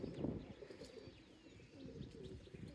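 A flock of roughly 150 to 200 pigeons circles overhead. Faint, distant coos and chirps drift in over a low outdoor background, with an occasional soft flutter.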